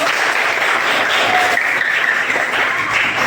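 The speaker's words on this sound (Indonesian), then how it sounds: "Tepuk tangan dulu dong." Steady, dense applause from a crowd, many hands clapping together at an even loudness throughout.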